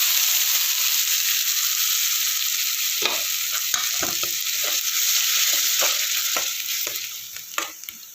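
Onions sautéing with ginger garlic paste in a pan for a mushroom gravy: a loud, steady sizzle, then a run of spatula scrapes and stirs in the second half as the hiss slowly fades.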